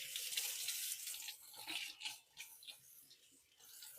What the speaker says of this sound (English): I'm going to go give my knife a little wash